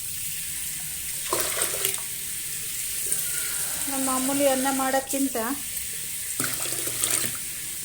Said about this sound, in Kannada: ನೀರು ಸೇರಿಸ್ತಾ ಇದ್ದೀನಿ.